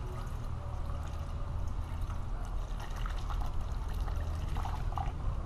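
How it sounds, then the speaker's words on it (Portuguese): Alcohol, 500 ml, is poured into a container in a steady liquid stream, with a continuous close splashing trickle and a few higher gurgles toward the end. "Despejar todo o álcool, rapaziada. 500 ml de álcool."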